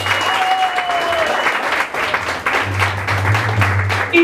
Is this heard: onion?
no